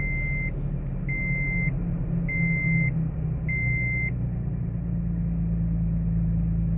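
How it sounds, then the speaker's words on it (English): A Toyota Tacoma with a 4.0L engine and a custom 3-inch exhaust without its tailpipe, idling as heard from inside the cab: a steady low rumble under four evenly spaced electronic chime beeps. "We're going to start it up without the tailpipe on it."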